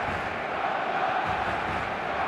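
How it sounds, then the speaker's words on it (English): A dense, steady roar of a packed stadium crowd at a football match in eFootball 2026, a continuous wash of massed voices with no single shout standing out, holding constant throughout. "The stadium is full of noise and energy."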